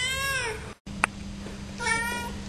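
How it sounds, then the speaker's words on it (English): A cat meows twice at close range, the first a long drawn-out call and the second a shorter one after a brief pause, over a steady low hum in an indoor room. "I've got another cat to show you."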